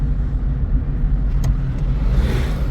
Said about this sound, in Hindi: अब आपका देखिए गियर तो लगा रहे हैं ना, तीसरा लगा रहे हैं